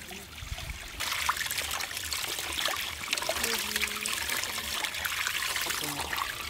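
Tap water runs and splashes steadily while cut rohu fish is washed, a continuous close trickle and spatter with brief faint clinks, and no clear speech over it.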